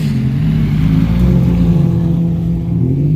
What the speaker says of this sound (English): That fucking car is fast.